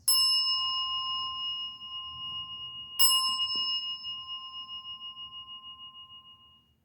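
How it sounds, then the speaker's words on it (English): Two clear bell strikes at a Buddhist service during the third bow, the first at the start and the second about three seconds later, each ringing bright and long and slowly fading, with faint room murmur underneath. "third bow with two bells"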